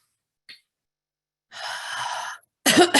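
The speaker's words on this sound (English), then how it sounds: "Excuse me, a little cough today." One brief throat noise, then a longer breathy exhale, then a single loud close cough from a woman at her microphone.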